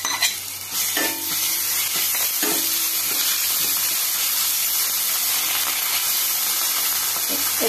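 Garlic-ginger paste and Kashmiri red chili hit hot oil in a pan, giving a loud, continuous sizzle and hiss with a few stirring scrapes near the start.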